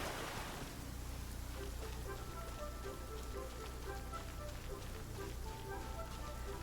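Steady rain falls on a surface, a soft, even patter that continues throughout under quiet background music from a Genshin Impact game stream.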